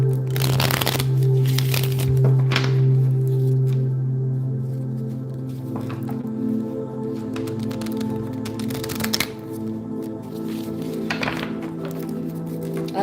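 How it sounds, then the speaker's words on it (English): A deck of playing cards is shuffled repeatedly at close range, making soft riffling and thunking bursts over a steady low background hum, with no talking. "Gotta shuffle till it feel good."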